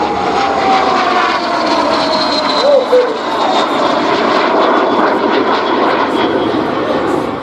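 Aircraft engine drone at the Oshkosh EAA AirVenture 2021 airshow, a steady broad roar holding level throughout with a loudspeaker announcer talking over it.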